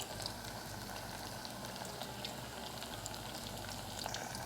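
Plantain pieces frying in hot oil for vegan Puerto Rican mofongo, a dense, steady, close-up crackle and sizzle with scattered sharper pops throughout and no talking.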